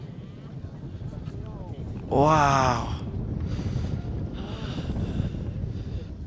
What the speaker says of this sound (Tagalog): Ang pinakakalaban ko ngayon dito guys is yung hangin. Sobrang lamig ng hangin.